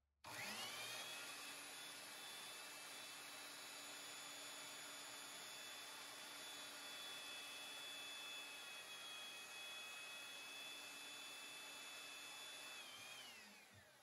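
Belt sander starting up with a quick rising whir, then running at a steady, loud whine with a constant tonal hum for over ten seconds before winding down, heard alone without any voices.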